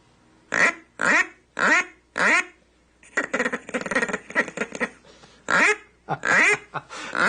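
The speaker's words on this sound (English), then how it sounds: "give us a lesson in duck calling" An eight-year-old boy blows a duck call: four separate loud quacks, then a rapid chattering run of calls, then a few more quacks, close and alone with no talk.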